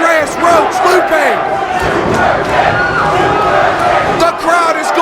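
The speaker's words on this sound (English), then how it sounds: "The crowd is going bonkers." A wrestling crowd at Longboat Hall in Toronto roars and cheers wildly during a chaotic battle royal, with dense, sustained crowd noise, shouts and yells filling the hall throughout.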